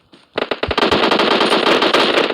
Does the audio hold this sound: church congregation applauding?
no